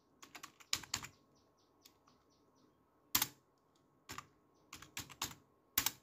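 Keys being typed on a computer keyboard in short bursts and single presses, close and clear with pauses between clusters of clicks.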